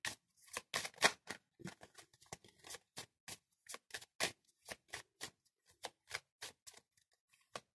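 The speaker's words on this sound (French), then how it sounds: "Je vais positionner 7 cartes" Seven oracle cards being dealt and laid out one by one, a steady series of crisp card snaps and slaps close by with short pauses between them, no talking.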